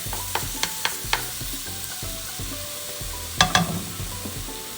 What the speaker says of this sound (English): we're just going to let that simmer until you start to really smell the fragrance of